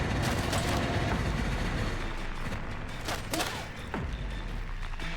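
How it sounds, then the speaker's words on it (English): Gunfire rings out in the video game Resident Evil Requiem, a dense, sustained clatter of shots with sharp ricochet pings cutting through over a constant rumbling background. "Someone's taking shots. I can hear the ricochet of bullets."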